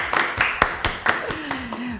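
A few people clap in a short, sparse round of applause for Isabela, with scattered, unsynchronised claps near the mic and a faint tonal sound sliding underneath.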